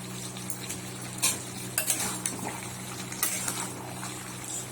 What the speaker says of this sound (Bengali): এক হাতে ঘাটলে না কড়াইটা সরে যায়।